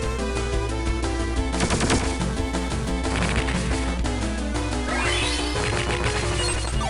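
Rapid video game gunfire from Medabots, with robots shooting at one opponent during a tournament battle, heard as dense bursts of shots and crashing hits over loud, continuous game music for the whole stretch.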